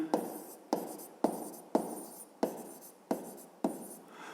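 Pen strokes scratch out a solution to a seventh-grade physics problem, in seven rhythmic bursts of scribbling, each a sharp attack that fades, close and clear with no talk.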